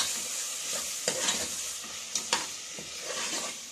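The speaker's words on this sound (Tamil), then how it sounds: "இப்போ நல்லா கலந்துடுவோம்." A spoon stirs chicken salna gravy in a hot pan, with a steady sizzle and frying hiss under soft scraping strokes. A few louder clinks and scrapes come up close, and no one speaks.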